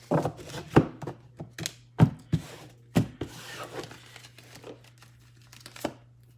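Tarot cards are shuffled and tapped with crisp slaps and soft riffling, in irregular bursts close up against a faint steady hum.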